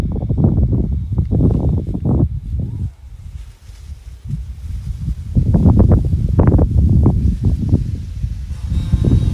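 Gusty wind in a garden buffets the microphone in loud low rumbles, easing briefly in the middle before blustering again.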